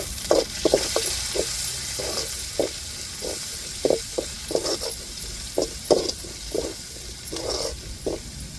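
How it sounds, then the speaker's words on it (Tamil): Curry leaves sizzle in hot oil alongside garlic while cooking beetroot and carrot rice, with a soft steady hiss broken by repeated short scrapes and clinks of stirring. "இப்போ கருவேப்பிலை சேர்த்துக்கிடுவோம்"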